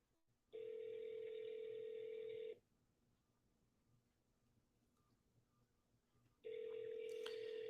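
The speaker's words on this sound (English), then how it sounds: "You guys can hear the phone, right?" A telephone rings during a sales call: two long, steady electronic ring tones separated by a few seconds of quiet, clear and moderately near.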